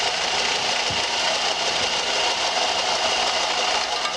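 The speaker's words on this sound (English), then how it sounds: "Shut this off and you hear the train." A train passing close by, loud enough to shake the building, comes through as a steady, unbroken roar and rumble that fills the whole stretch with no pauses and no voices.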